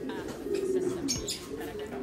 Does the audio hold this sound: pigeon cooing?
yes